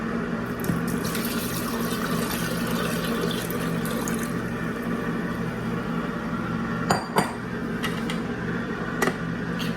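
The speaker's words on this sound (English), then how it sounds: "And then I'm going to pour my rosé mixture right in." Rosé wine sorbet mixture is poured into a running sorbet machine, giving a steady liquid rush over a continuous mechanical hum, with a few brief clinks near the end.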